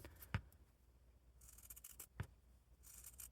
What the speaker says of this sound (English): Let's cut that down the middle.